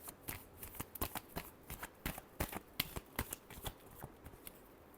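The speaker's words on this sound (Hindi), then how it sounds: "एरीज के लिए लास्ट शफल" Tarot cards are shuffled by hand in quiet, close riffling bursts, a rapid run of soft crisp flutters and taps lasting several seconds.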